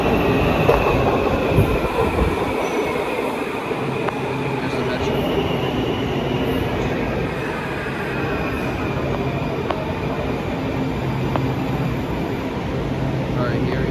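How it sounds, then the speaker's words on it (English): A Metro yellow line train pulls into a station in Arlington, Virginia, with a continuous loud rumble, rail clatter and faint high squeals, while people talk over the noise. "Here comes the train, this is the yellow line."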